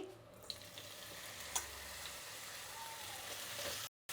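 Raw plantain pieces fry in a little oil in a pan, giving a dense, even sizzle with a couple of soft clinks. The sound cuts out abruptly near the end.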